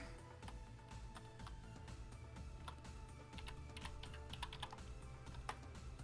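Steady computer keyboard typing with dense, quick key clicks and a few sharper presses such as Enter, close and continuous with no talk.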